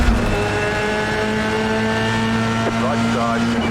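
Formula 3 race cars launching from the start at Sebring in the iRacing sim, a loud sustained engine whine with steady high tones and a gear-change pitch sweep near the end, dense and unbroken throughout.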